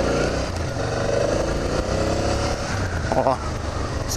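Honda Transalp 700V motorcycle engine running steadily close by, a continuous loud drone with harmonic lines that shift in pitch as the bike moves, plus a brief burst near the end; a voice speaks over it.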